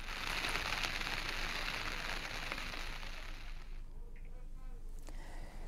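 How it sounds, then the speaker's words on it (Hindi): Steady rain falling in the mountains of Chamoli, a dense even hiss throughout. "चमोली में कुछ इलाकों में रुक रुक कर बारिश हो रही है।"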